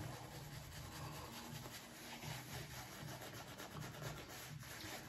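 A shaving brush works Spartacus shaving soap by Ariana & Evans into a lather, giving a quiet, steady swishing and rubbing that continues alone throughout.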